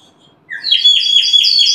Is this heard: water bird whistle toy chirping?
yes